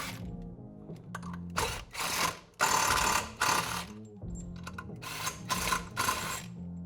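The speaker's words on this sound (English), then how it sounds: "Now we can remove the bolts spreading the sheaves." Bolts spreading the clutch sheaves on a Kawasaki Teryx KRX 1000 are backed out with a ratcheting tool, giving several loud bursts of mechanical whirring and clicking close by, separated by short pauses.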